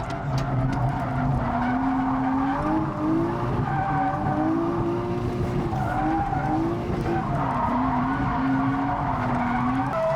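A BMW M140i drifts around a track at Santa Pod, its tyres squealing long and loud with wavering pitch over a steady engine roar, close by and without voices.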